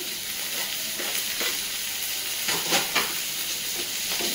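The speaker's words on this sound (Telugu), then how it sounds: "ఇలా ఫ్రై అయిపోయాక దీంట్లో ఇది వేసేస్తాను. టమాటాస్ వేసేస్తున్నాను." Tomatoes fry in a hot pan for a North Indian dish, giving a steady, close sizzling hiss with a few soft bursts of crackle and stirring, no talking.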